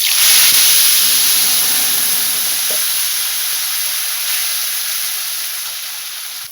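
Dried chillies and ground spice paste fry in hot oil in a pan while a Bengali singi fish curry with stalks and tomato is being cooked, giving a loud steady sizzle and hiss that slowly fades, with no talking.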